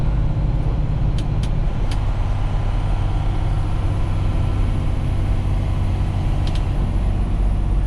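Steady road roar heard from inside a vehicle cruising on a highway, a loud continuous low rumble of engine and tires with a few faint high ticks, while a small car passes nearby.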